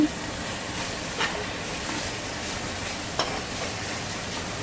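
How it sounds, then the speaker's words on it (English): Oxtail frying in a pan with black pepper makes a constant broadband sizzle, broken by a couple of brief clicks of stirring, close and fairly loud, with no voices. "just gonna let this fry."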